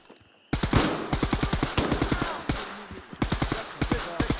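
An AK-74M rifle fires loud, close bursts of fully automatic fire. The sharp, evenly spaced shots run for several seconds, break briefly, then resume in another rapid string.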